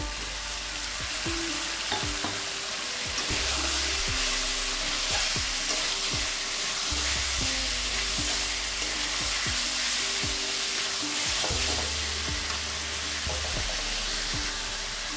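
Chopped tomatoes frying for ghughni hiss and sizzle steadily up close while a spatula scrapes and clacks against the pan in repeated stirring strokes.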